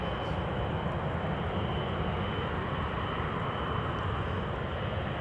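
A Delta Airbus A330 jet departs the Polderbaan runway at Amsterdam Schiphol, its engines giving a steady, broad roar that holds level throughout, with no voices.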